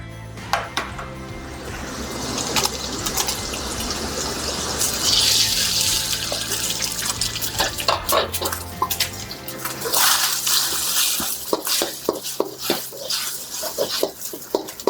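An egg fries in oil with garlic for fried rice, filling the pan with a loud, continuous sizzle and spatter that rises and holds steady, with a few stirring clatters near the end.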